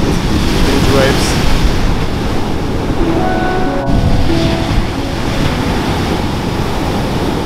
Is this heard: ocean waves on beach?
yes